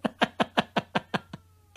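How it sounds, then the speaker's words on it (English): A cat yowling in a rapid run of about eight sharp, rhythmic cries that weaken and trail off at the end, fairly close and heard alone. "your cats watch the show and they're now yowling in rage"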